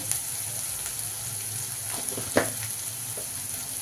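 Ginger garlic paste and turmeric frying and being stirred in a pan, a quiet steady sizzle with faint scraping strokes and one brief clink partway through.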